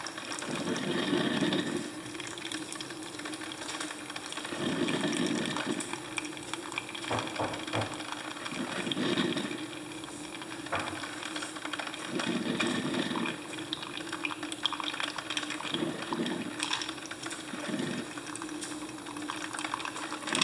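A Sunbeam iced coffee maker fills a cup with a steady mechanical whir and trickling liquid, punctuated by periodic low pulsing bursts, close and moderately quiet with no talk.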